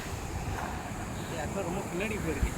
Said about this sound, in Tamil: ஒவ்வொரு வாட்டி கடலுக்கு வரப்போ தண்ணி ஏதோ ரொம்ப கிட்ட வர மாதிரியே ஒரு ஃபீலு